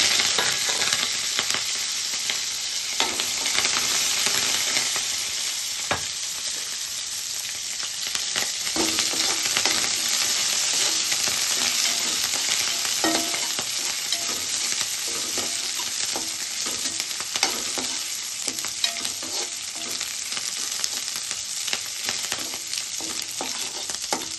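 Garlic cloves and curry leaves fry in hot oil with a steady, close crackling sizzle, broken by frequent soft stirring scrapes and occasional sharper pops, no voices.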